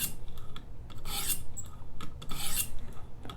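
A ZT Hinderer 0562 slicer knife is sharpened with light passes on a stone, giving a series of close, rhythmic rasping strokes, about seven in a row, each a soft scraping swish, with no speech.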